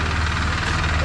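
Engine running noisily nearby, a steady low rumble with a regular pulsing throb and a faint knocking rhythm that stays loud and constant throughout.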